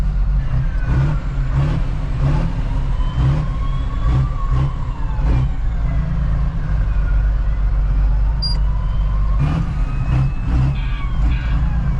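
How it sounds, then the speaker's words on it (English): Many tractors lined up on a runway for a Christmas light tractor run rumble together as a steady, heavy engine drone, with occasional revs, clanks and a brief beep rising above the mass. "That's a lot of tractors."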